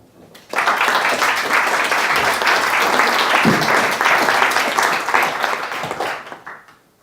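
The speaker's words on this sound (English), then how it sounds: "Round of applause." A conference audience gives a round of applause after a software testing talk. Clapping bursts in abruptly, stays loud and dense for about five seconds, then thins and fades out.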